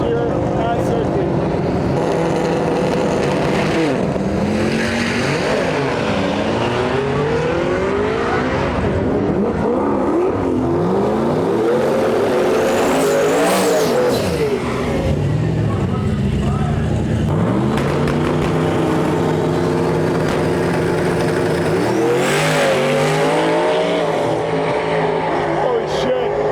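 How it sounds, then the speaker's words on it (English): A Hemi-powered Fox body drag race car makes its first pass at Sick Week, its engine roaring loud and continuous with rising, wavering pitch sweeps as it accelerates down the strip. "This is this Hemi-powered Fox body I just showed you in the lanes. It's going to be his first pass here at Sick Week."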